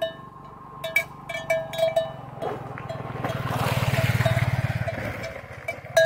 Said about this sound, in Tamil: பார்த்தீங்கன்னா மணிலாம் கட்டி வச்சிருக்காங்க, ஏன்னா வந்து காட்டில் தொலைஞ்சி போயிடுச்சுன்னா இந்த மணி வச்சு தான் கண்டுபிடிப்பாங்க